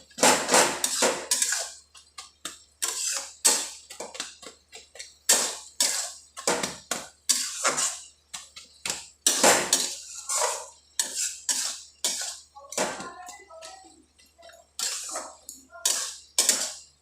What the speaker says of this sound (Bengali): ভালো করে এবার একটু ম্যাশ করে নিই খুন্তির সাহায্যে।